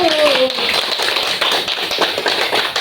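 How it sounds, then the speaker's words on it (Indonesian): A steady round of hand clapping from a group of students in a classroom, dense and continuous throughout, with a brief voice at the start. "Tepuk tangan dulu."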